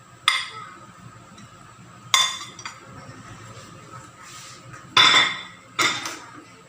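Metal utensil clinks sharply against a pot four times while mango chutney is stirred, each knock ringing briefly over quiet background.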